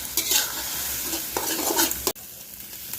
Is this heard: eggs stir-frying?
yes